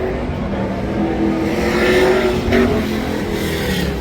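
A Camaro race car's engine growls and revs at a Texas no-prep drag race, a loud, steady mechanical roar with slight swells in pitch, heard up close against outdoor track noise without any talk.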